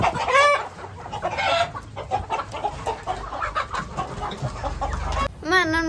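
A household chicken clucking loudly and close by, with agitated squawking bursts at the start and again at the end and quieter clucks in between.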